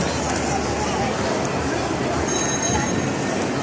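Steady rumbling train noise inside a mall, with a constant roar and faint high squeals, a crowd murmuring underneath, close and continuous.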